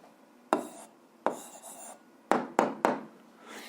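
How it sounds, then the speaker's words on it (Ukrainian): A math answer is written out by hand for an 8th-grade algebra equation, heard as five distinct close scratchy strokes of pen or chalk on a surface, separated by short pauses. "Ну що ж, записуємо відповідь, пишемо відповідь."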